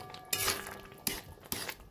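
A utensil scrapes and clinks against a pan while vegetarian chana masala is mixed, three sharp metallic knocks over soft stirring, close and quiet.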